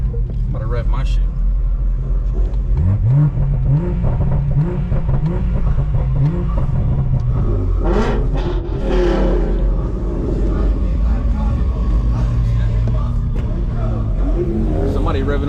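Engine revving at a car meet, a loud deep rumble swelling through repeated climbing revs before settling to a steady idle, with people talking over it.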